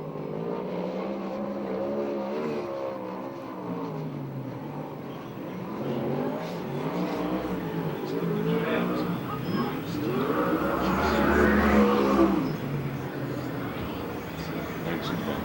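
USAC/CRA sprint car running a qualifying lap at Perris, California, its engine a rising and falling rasp from mid-distance that swells near the end, under continuous announcer commentary.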